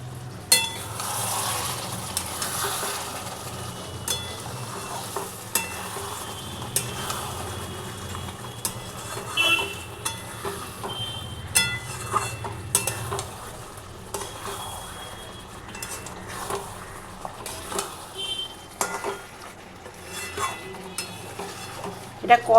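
Mutton curry for a homestyle goat meat jhol being stirred and sautéed in a pan, a steady sizzle under repeated scrapes and clinks of the spoon against the pan, close and fairly loud throughout.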